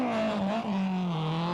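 A Nissan 240 RS rally car taking a bend on a 1987 British rally stage, its engine droning loud and close with a steady tone that dips briefly and then picks up again.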